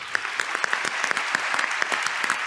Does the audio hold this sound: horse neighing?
no